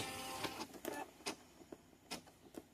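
A home embroidery machine runs a placement stitch for an in-the-hoop corner bookmark in a 5x7 hoop, giving faint, irregular mechanical taps and whirs close by with no talk.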